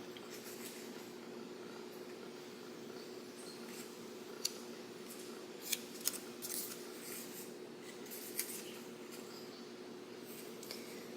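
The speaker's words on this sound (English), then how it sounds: "I'm snipping it off in order to make room for our wing" Scissors snip paper while cutting a Charizard 3-D paper art shadowbox, giving a few faint, sharp clicks and snips over a quiet background hum.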